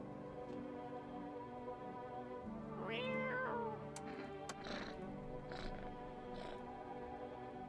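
A cat in a horror video game gives a single drawn-out meow midway, heard over a quiet droning background, followed by a few faint clicks.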